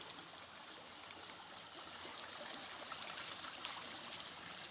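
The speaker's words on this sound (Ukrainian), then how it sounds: "Тут у нас знаходяться природні джерела." Water from a natural spring streams and trickles steadily over stones, a constant gentle rush at moderate distance with no voices.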